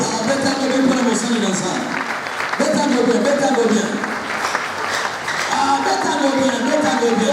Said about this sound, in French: Acclamez pour l'homme de Dieu